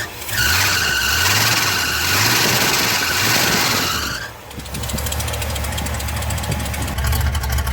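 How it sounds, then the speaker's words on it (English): A 1978 Ford F150 engine idles steadily after a cold start, a loud continuous rumble with a pulsing low drone and a high belt or fan whine that drops away partway through, leaving a rougher, steady idle. "Engine sounds pretty good. I don't hear any knocking or clattering. It's a pretty decent cold start."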